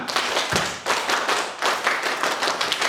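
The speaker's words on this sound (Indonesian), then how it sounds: "Tepuk pramuka." Scout group performs a rhythmic clap together, several sharp unison bursts of many hands in a patterned beat, close and loud with brief pauses between phrases.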